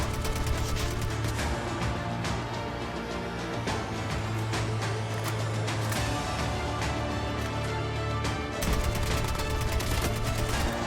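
AK-47 gunfire in the Call of Duty Mobile game, rapid bursts of shots crackling over a dense, busy game soundscape, with a louder flurry near the end.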